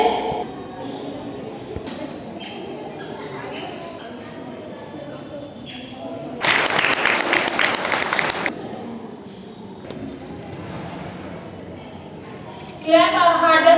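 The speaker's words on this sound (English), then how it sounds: "Clap harder for our little champion." Brief burst of audience clapping at a school event for students in Narela, a couple of seconds of dense applause rising out of a noisy room with talk and shuffling around it.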